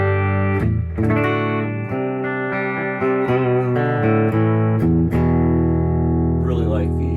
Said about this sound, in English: here's the clean sounding amp